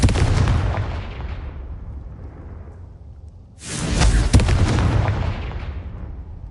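In the Hogwarts Legacy video game, a Confringo blasting spell sets off two heavy explosions: a loud boom fades away, then a second sharp blast with a rumbling tail follows a few seconds later.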